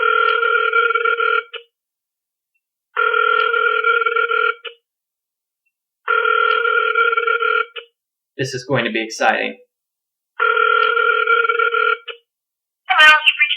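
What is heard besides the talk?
outgoing phone call ringing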